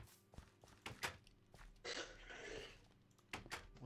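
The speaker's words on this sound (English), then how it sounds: "He's just clearing his throat." A man clears his throat in a short rough burst near the middle, surrounded by scattered thumps and clicks.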